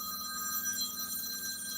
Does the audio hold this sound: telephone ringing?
yes